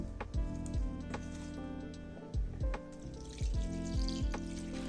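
Water pours and splashes into a cooking pot with ginger and pimento, about 1.5 liters, in a close, uneven stream with occasional louder gurgling bursts.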